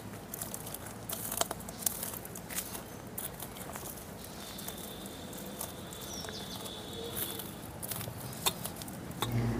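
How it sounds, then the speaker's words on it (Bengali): Dried red chillies being crushed with a dal masher, a close, soft crackly crunching and patter that continues steadily with occasional sharper snaps. "শুকনো লঙ্কাগুলো আমি গুন্ডি করে নিচ্ছি"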